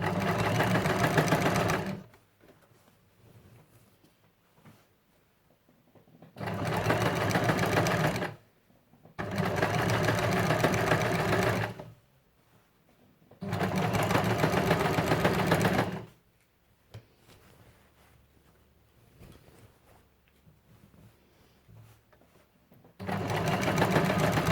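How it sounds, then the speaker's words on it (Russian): Sewing machine running through plush fabric layered with synthetic batting for a baby blanket-envelope, in loud, steady whirring bursts of several seconds each, separated by quiet pauses. "Сильно не спешите, если будете шить на большой скорости, то очень сильно стянется синтепон с тканью"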